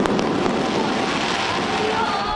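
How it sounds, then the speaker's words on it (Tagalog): Dense, continuous crackling and popping from a fireworks display over Jones Bridge in Manila at midnight for Chinese New Year, loud and close, with a roar of overlapping bursts throughout. "Makulay na fireworks ang isinalubong sa Year of the Wood Dragon pagpatak ng hating gabi"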